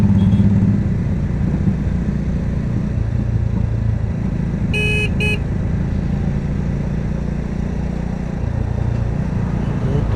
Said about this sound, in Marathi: मोठ्या गाड्यांची ट्रॅफिक जास्त आहे या रस्त्याकडे.